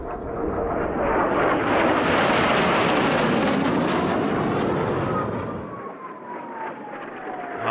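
Racing aircraft engines roar at the 2018 Reno air races, a loud, sustained, close-up drone that swells and then eases, with one engine's pitch sliding steadily downward as it passes.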